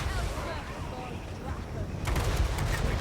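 Cannon artillery fire in the fantasy strategy game Total War Warhammer 3, a dense rumbling barrage of booms that grows heavier and louder toward the end.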